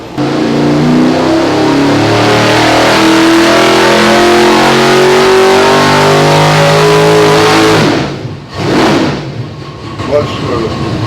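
A nitrous-fed 632 cubic inch big block V8 roars at full throttle on a dyno, a loud rising pull that holds for about eight seconds before cutting off abruptly, followed by lower rumbling and settling noise.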